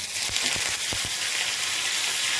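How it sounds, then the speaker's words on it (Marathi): Steady, close sizzling hiss of spices in hot oil, with a few sharp crackles and pops in the first second, no talking. "त्याच्यामध्ये तडका सोडून द्यायचा मस्त तडतडू द्यायचं आहे"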